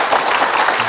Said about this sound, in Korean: 우리 두 분께 박수 힘차게 보내주시겠습니까?